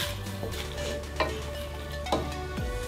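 Cauliflower and plantain fry together in a pan as they are mixed, making a continuous sizzle with a few spoon scrapes and knocks against the pan, heard up close without speech.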